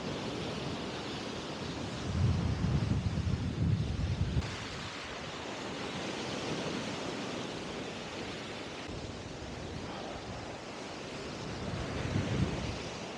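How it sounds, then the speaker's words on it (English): Strong wind buffets the microphone on a fierce day at the beach in Sunderland, a steady roar of surf and gusts with heavier rumbling bursts, with no voices. "The wind is really blowing as well."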